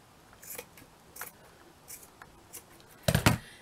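Scissors snip through craft material while a Victorian-style wall hanging is trimmed. Several light, scattered cuts are followed by a louder, close cluster of snips near the end, with no talking.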